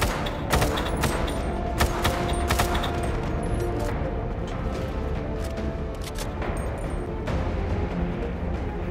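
Unsuppressed gunfire in a GTA 5 zombie survival session, loud sharp shots in uneven bursts and single cracks ringing out over a continuous dense rumble of in-game noise, with no talking.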